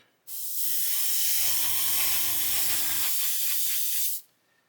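A steady airbrush hiss spraying paint onto a model runs for about four seconds, close and loud, with a low compressor hum joining partway through before the spray cuts off.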